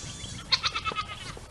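Homestead goats bleat in a quick series of short, nasal calls close by, several bursts overlapping against a quiet outdoor background.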